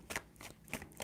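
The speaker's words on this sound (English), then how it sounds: "3 shuffles." Tarot cards shuffled three times in quick bursts, crisp riffling rustles spaced across a second, close and fairly quiet with no voice.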